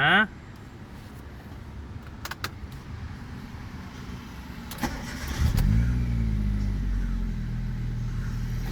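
A brief electronic chime, then quiet clicks and a jingle of keys before a car engine, newly fitted with a replacement fuel pump, cranks and catches, settling into a steady idle rumble.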